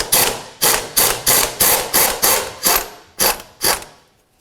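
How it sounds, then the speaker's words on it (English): Repeated ratcheting clicks come from a wrench on a 14mm through bolt while the rear engine mount is removed from a 2004-2006 Scion xB, about ten evenly spaced bursts, loud and close, with no talk. "go ahead and remove the bolt."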